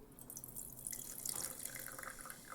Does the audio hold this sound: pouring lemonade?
yes